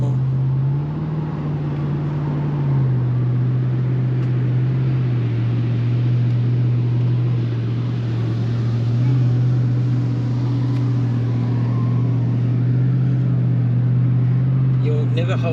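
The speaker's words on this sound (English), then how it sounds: "Just listen to the engine." A Nissan Patrol Y62 SUV engine drones with a steady low hum while driving on beach sand, its pitch dipping and rising slightly as it labours along, loud and close throughout.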